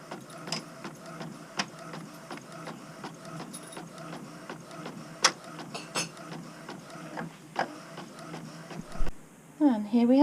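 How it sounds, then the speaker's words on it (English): A small home printer runs on a widebeam narrowboat while printing a card, its printhead clicking and whirring in a steady repeating rhythm. Near the end the printing gives way to different mechanical sounds. "I'm now going to print this out"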